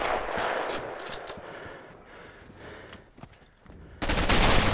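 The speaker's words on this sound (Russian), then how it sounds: "Кто-то стреляет по мне." Gunfire in Red Orchestra: Ostfront 41-45, sharp close shots cracking early, quieter scattered reports in the middle, then a loud burst of firing at the end.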